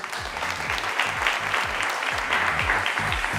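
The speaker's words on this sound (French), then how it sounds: "vous pouvez vous applaudir pour ça" An audience applauds after the runway show at a Limoges fashion event, with dense, even clapping throughout and a faint rhythmic low thump, like background music, running under it.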